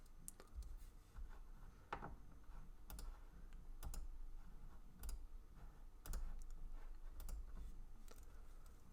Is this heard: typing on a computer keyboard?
yes